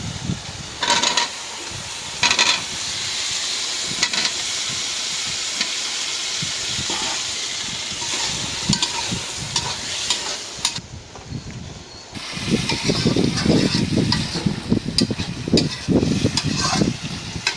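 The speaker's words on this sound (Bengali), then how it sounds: "মশলাটা ভালো করে কষায় নিলাম, দিয়ে দিলাম আলু" Spice paste and potatoes frying in a pan, giving a steady close sizzle and hiss broken by stirring scrapes and clatters, growing louder and busier toward the end.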